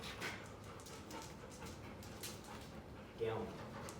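A dog pants and gives small whimpers close by during a training session indoors, with a person speaking commands over the sounds.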